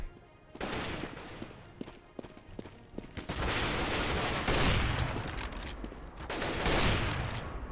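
Gunfire in a CS:GO Overwatch replay: rapid, loud, sustained bursts of automatic weapon fire with sharp repeated cracks, in dense clusters with little pause.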